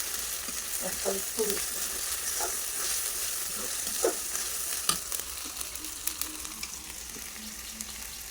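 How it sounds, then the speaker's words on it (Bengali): Ground spices, crushed on a grinding stone, sizzling and frying in a pan for a village-style chicken gizzard and liver dish, a steady broadband hiss with scattered stirring scrapes and taps throughout. "তো আমি মশলাগুলো খুব সুন্দর করে ভেজে নিলাম।"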